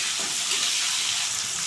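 Chopped tomatoes fry in a pan with a steady bright sizzle and hiss, close and even throughout with no voices.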